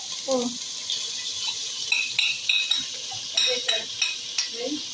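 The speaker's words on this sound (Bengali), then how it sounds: "সব উপকরণ ঢেলে দিয়ে দেবো।" Ingredients tipped into a frying pan and stirred, giving a run of soft scraping and sizzling strokes with repeated clinks, close by and fairly loud, with no talk over it.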